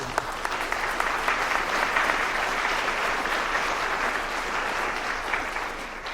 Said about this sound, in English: round of applause for our Alumni Association